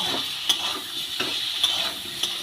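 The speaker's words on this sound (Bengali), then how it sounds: "মশলাগুলো দিয়ে আলুটাকে খুব ভালো করে আমি ভেজে নেব" Potatoes fry in a pan with garlic paste, Kashmiri chili powder and spices, giving a steady close sizzle broken by a few sharp stirring scrapes at regular intervals.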